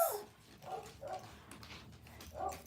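Several dogs waiting to be fed let out faint, high whimpers and short yips in uneven bursts, fairly distant, with no clear talk.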